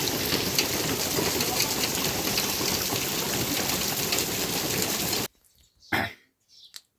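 Steady, dense hiss of rain pouring down for several seconds, then it cuts off abruptly, followed by a cough and a few quiet sounds.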